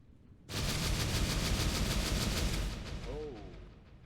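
Sustained burst of rapid blaster-style gunfire during a weapons test in Garry's Mod Star Wars RP, loud and continuous for about two and a half seconds before tapering off, with a brief voice near the end.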